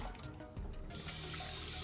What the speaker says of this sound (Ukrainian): Зливаю гарячу воду.